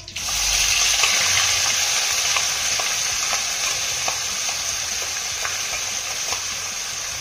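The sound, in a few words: ground spice paste frying in hot oil with cumin, curry leaves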